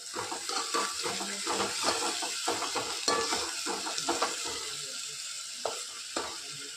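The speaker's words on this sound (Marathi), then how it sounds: "आपण टाकत आहोत मसाला हे बघा छानसं तेल सुटलं मसाला भाजून" Masala spice mix roasting in oil for a goat mutton curry, sizzling steadily with repeated scraping stirs and small pops throughout, close and moderately loud.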